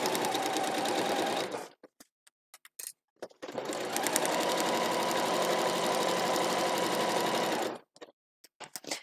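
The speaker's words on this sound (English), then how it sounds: "And you're just sewing along that straight line, the solid line." A sewing machine runs stitching along a straight solid line, with two continuous runs of fast mechanical whirring separated by brief pauses and small clicks.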